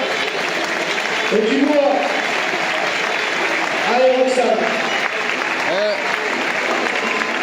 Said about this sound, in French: Allez, sous vos applaudissements